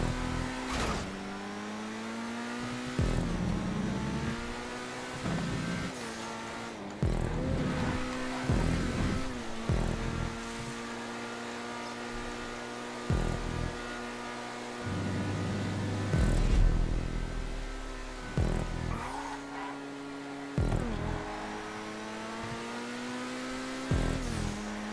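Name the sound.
car driving on race track in video game GTA 5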